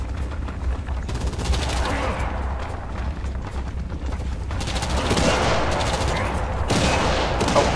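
Rapid bursts of video game gunfire, loud and close, with dense automatic volleys that come and go in clusters over a rumbling background.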